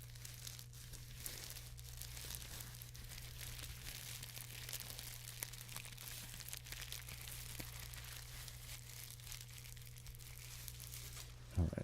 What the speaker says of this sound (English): Alright, that's enough crinkling for tonight.